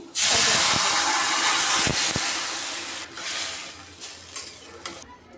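Onions and torn dried red chili hit hot oil in a pan for a vegetarian vegetable dish, giving a loud, steady sizzle with a few scrapes and stirring knocks that gradually softens toward the end.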